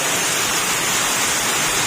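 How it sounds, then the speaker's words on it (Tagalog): Heavy rain roars as a steady, dense hiss, loud and unbroken throughout, with no voices. "lakas ng ulan mga sir oh"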